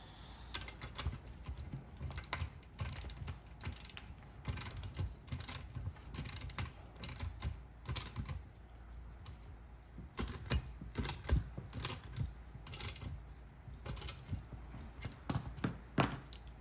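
A bicycle freehub ratchet clicks rapidly and steadily up close. The clicks sound soft and dull rather than crisp, and no one speaks.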